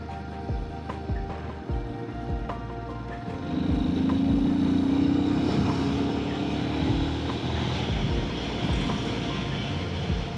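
A Royal Enfield Himalayan 450 motorcycle on a touring ride, its steady engine drone and road rumble running continuously and growing louder and fuller midway as the rider accelerates, with no speech.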